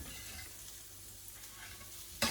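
Ginger, garlic and chilies fry in a pan with a steady close sizzle and a soft crackle, ending in a brief louder clatter.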